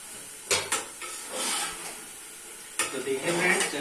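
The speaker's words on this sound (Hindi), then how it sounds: "चने भून लिए अच्छे से" Chickpeas stir-fried in a pan for chana pulao, with a steady sizzle, scraping stirs and occasional clinks of a spoon against the pan, heard close.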